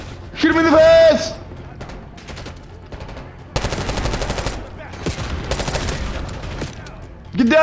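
Rapid machine-gun bursts and single gunshots crackle through a Call of Duty Black Ops 6 campaign firefight, loud and sustained for several seconds, with shouted voices over the shooting.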